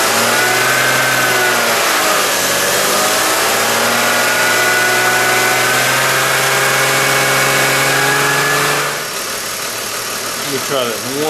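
A BMW X5 engine revs as the accelerator is pushed, a loud steady mechanical roar with a rising and falling pitch, easing off near the end.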